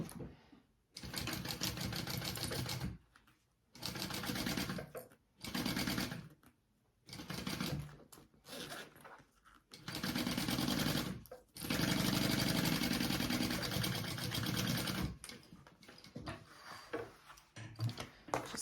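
A sewing machine bastes bag fabric in quick bursts, rapid mechanical ticking runs starting and stopping with short pauses between, the longest run lasting a few seconds, close and clear without speech.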